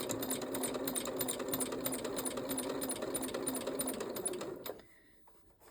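A sewing machine stitches a quarter-inch seam slowly, its rapid steady needle chatter running close and loud for nearly five seconds before stopping abruptly into quiet.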